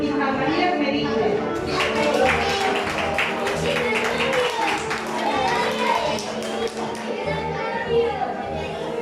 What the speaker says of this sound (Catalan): Rebem amb un fort aplaudiment a Aitana Llull i Maria Merite.